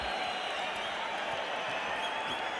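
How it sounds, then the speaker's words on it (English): A boxing arena crowd at a 1986 Mike Tyson fight roars and applauds in a dense, loud, continuous wash of cheering and clapping. "And now the crowd roaring even more, and it's not for Tyson, it's not for Zouski."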